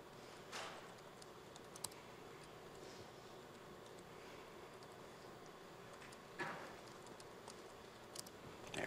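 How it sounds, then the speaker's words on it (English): A password typed on a computer keyboard, faint scattered key clicks over a hum-filled room, with a few slightly louder taps. "Assuming I can type my password."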